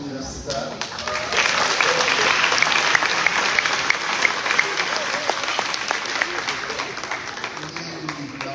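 At a graduation celebration, an audience claps for the graduates in a sustained, dense round of applause that builds after the first second and holds steady, with voices audible underneath.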